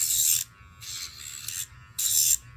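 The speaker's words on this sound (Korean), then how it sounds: "그라인더로 안 갈아주면 다쳐요" Electric grinder filing down a dog's nails in short bursts, a high whirring rasp repeated three times with brief pauses, close and fairly loud.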